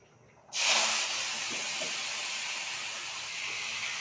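Cumin seeds drop into hot oil for tempering and burst into a sudden loud, steady sizzle that carries on without letting up, close by and with no talk over it.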